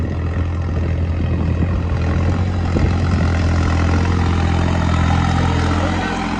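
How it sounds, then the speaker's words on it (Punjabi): A tractor engine runs steadily with a deep, droning rumble, close and constant throughout. "ਟਰੈਕਟਰ ਦੀ ਤੁਸੀਂ ਸਾਊਂਡ ਕੁਆਲਿਟੀ ਚੈੱਕ ਕਰ ਸਕਦੇ ਹੋ"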